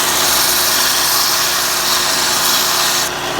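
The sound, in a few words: power sander sanding down metal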